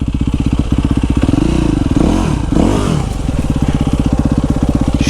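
An enduro motorcycle engine in first gear chugs at low revs with an even, thumping putter, surges briefly in the middle, then settles back to a steady beat.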